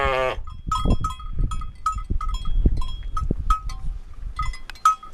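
A short call opens, then a flock of sheep responds to the shepherd with scattered bleats, tinkling bells and shuffling hooves, close by and continuing throughout.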